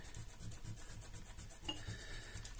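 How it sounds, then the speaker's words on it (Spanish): An eraser rubs dried masking fluid off watercolor paper in steady, close, soft scrubbing strokes with a quiet papery rasp, repeating in even rhythm throughout. "Lo que tenéis que hacer es con una goma ir frotando toda la parte"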